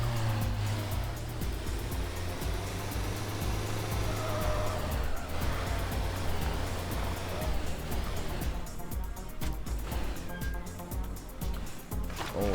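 Car driving in the video game Teardown, a steady loud engine drone with tire skidding and scraping throughout, ending in a burst of rougher crunching noise.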